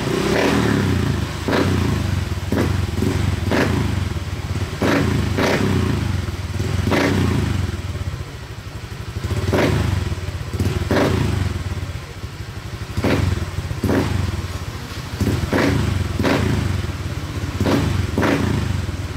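A Honda Click V3 scooter fitted with an Apido V4 power pipe revs repeatedly in short bursts, each throttle blip rising sharply and dropping back to a loud, close idle rumble with clattering mechanical noise.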